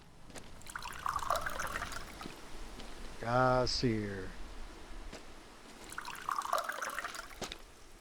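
Water pours into a bowl for Leo the dog in the Mon Bazou game. Two short trickling bursts of pouring come near and clear, and a brief voice is heard between them.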